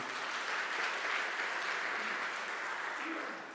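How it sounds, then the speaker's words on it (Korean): A congregation applauds together in a Korean Methodist church, a steady dense wash of many hands clapping at moderate level, continuous throughout and fading slightly at the end. "우리 박수해 주시겠습니다"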